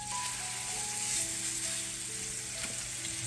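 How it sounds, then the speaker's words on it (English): A steak sears in a hot pan with a steady, crackling sizzle, close and continuous, with no voices over it. "You want to hear that nice sizzling sound."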